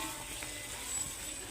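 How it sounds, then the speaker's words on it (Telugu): Garam masala, salt, turmeric and chili powder stirred into hot oil over a low flame for mushroom vegetable pulao, giving a steady, close sizzle with soft stirring scrapes and no talk. "స్టవ్ని లో ఫ్లేమ్లో పెట్టి ఇందులో మనము గరం మసాలా, అలానే ఉప్పు, పసుపు, కారం కూడా వేసి అంతా ఒకసారి దీన్ని అయితే మిక్స్ చేసేసుకుందామండి"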